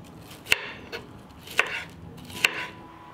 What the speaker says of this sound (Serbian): Zatim ću iseći 3 paprike.